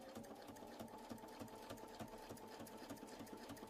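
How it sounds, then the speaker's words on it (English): Sewing machine stitching a quilt seam through a quilt sandwich along a template, a steady fast mechanical whirr with rapid rhythmic clicking, close and continuous but fairly quiet. "Move the template down and sew until we finish that seam."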